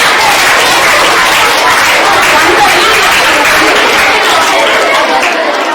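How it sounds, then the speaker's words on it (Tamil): Audience clapping at a government school event, dense and continuous with some crowd chatter mixed in, loud and close throughout. "நல்ல ஒரு கைதட்டு கொடுப்பேன்."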